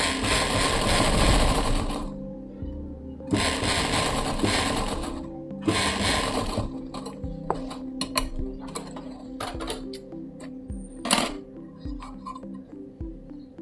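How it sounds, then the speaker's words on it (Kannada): A sewing machine stitches a pocket onto kids' jeans in three loud whirring runs, the last one short, followed by quieter mechanical clicks and clinks. "ಈಗ ಹಿಂಗೆ ತಿರುಗಿಸ್ಬಿಟ್ಟು ಇದ್ರ ಮೇಲೆ ಒಂದು ಸ್ಟಿಚ್ ಹಾಕ್ತೀನಿ."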